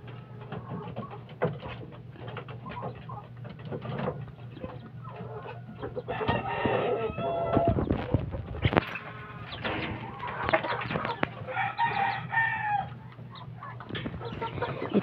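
Gamecock chickens, mostly hens with a few breeding roosters, cluck and crow steadily at close range, with busier overlapping calls in the middle stretch and no talking.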